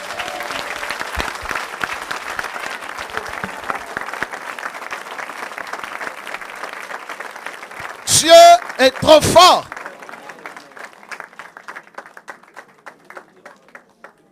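Church congregation applauding in a steady sustained ovation, with someone speaking over it and a brief loud burst of microphone noise partway through before the clapping thins out.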